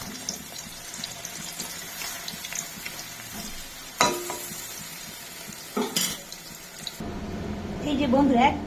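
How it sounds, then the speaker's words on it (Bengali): Pieces of banana fry in oil with a steady, close sizzle broken by a few sharp clatters of utensils, ending in a louder burst of bubbling and spitting. "এবার খুব সুন্দর করে তেলে ভেজে নেব।"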